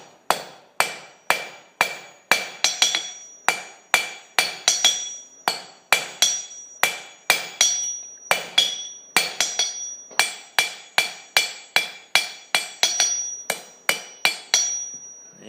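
Hammer blows forging a cheese knife blade on an anvil, a long series of loud, sharp ringing metallic strikes at a steady, slightly uneven rhythm, each decaying quickly, close and alone.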